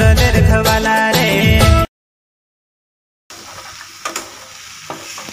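Wild leafy greens being sautéed in a pan: music gives way to a short silence, then a steady low sizzle with occasional spoon scrapes and taps close by.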